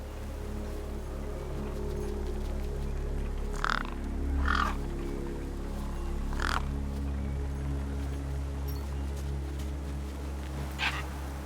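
Gang birds in the video game Beyond a Steel Sky caw several times, scattered, crow-like calls. They sound over a constant low ambient hum near a corpse.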